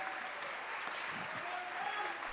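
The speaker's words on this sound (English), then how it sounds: "And another round of applause for Bryce Beasley." Applause from an audience at a high school performance showcase, a brief, dense, steady round of clapping for a young performer.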